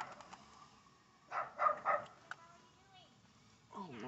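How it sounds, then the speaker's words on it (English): A dog chasing a car barks in a quick burst of three or four yips, somewhat distant, over steady background hum, followed by a short whimpering call. "Somebody dog is like chasing a car."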